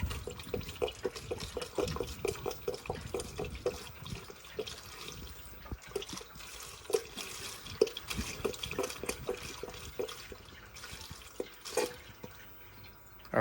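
Radiator flush liquid pours into a Toyota Land Cruiser radiator with a continuous, uneven gurgling and dripping, close by and fairly quiet, with irregular splashy pulses throughout.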